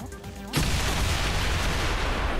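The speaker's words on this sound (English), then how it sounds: "where there's smoke, there's a need to use explosions instead" Explosions and gunfire from the video game XCOM 2 during a modded mansion raid: after half a second of quiet, a loud blast bursts in and settles into a sustained, dense roar of gunfire and rumble, close and loud, with no voices.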